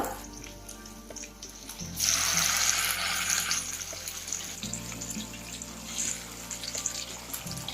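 Kingfish (surmai) pieces dropped into hot oil in a kadhai over medium heat: a loud sizzle bursts up, then eases into a softer, steady frying hiss with faint kitchen sounds.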